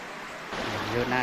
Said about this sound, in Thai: แล้วก็มีน้ำไหลออกมาแบบนี้เนาะ